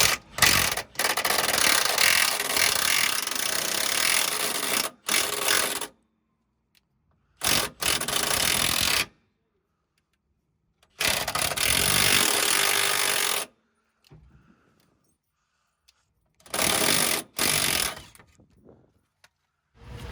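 A ratchet undoing a stiff 17 mm bolt into a captive nut on the lower arm of a Citroen C1, several bursts of rapid clicking separated by silent pauses, close.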